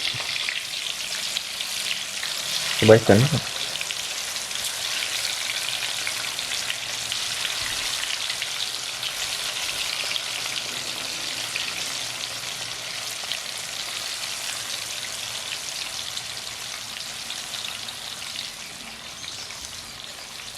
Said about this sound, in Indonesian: sekarang kita goreng tahu dulu